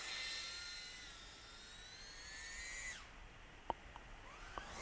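A small GEPRC Darkstar 20 cinematic drone in flight: its motors whine high and steady, the pitch slides down and fades out, then a few sharp clicks follow.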